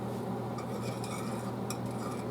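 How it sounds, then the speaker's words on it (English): Dry Alfredo sauce mix being whisked into liquid in a pot, a steady close scraping and swishing of the whisk with faint metallic clinks, no voices. "So let me whisk this in."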